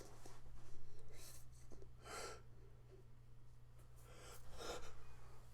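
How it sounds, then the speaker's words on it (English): A person's sneeze comes in two short, breathy bursts a couple of seconds apart over a steady low hum, with no words spoken. "Oh, it's happening. I'm about to sneeze."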